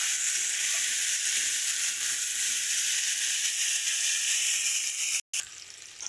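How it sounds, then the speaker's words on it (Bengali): Potatoes fry in hot oil in a home kitchen, giving a steady loud sizzle close up, briefly cut by a short pause near the end. "দিয়ে আলুটা ভালো করে একটু ভেজে নেব।"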